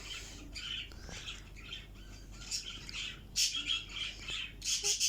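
Harsh bird squawks in a video game repeat in bursts over a steady low background hum, growing louder and more frequent toward the end.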